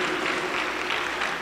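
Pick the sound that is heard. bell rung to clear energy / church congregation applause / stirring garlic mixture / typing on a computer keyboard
church congregation applause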